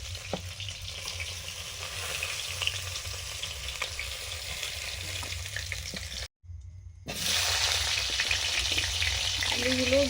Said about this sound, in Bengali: মাছগুলো ভেজে তুলে নিচ্ছি